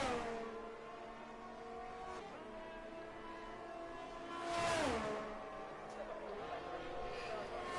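Sim race cars at Zandvoort, one tucked in behind another to catch the slipstream, whine steadily with rising and falling engine pitch and a swelling pass near the middle, heard under a commentator's talk.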